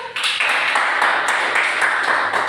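Students in a high school classroom giving a round of applause, a dense, steady patter of many hands clapping close by for a couple of seconds.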